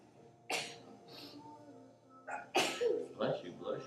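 A sharp sneeze bursts out during a chair yoga class, followed by a second, smaller sneezy exhale and then a voice speaking nearby.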